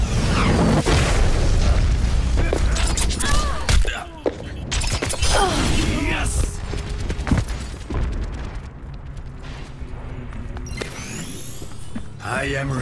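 A Meteor Strike ability explosion in Overwatch, a heavy boom inside a loud, dense battle mix of blasts, clanks and shattering, continuous for the full length with voices calling out over it.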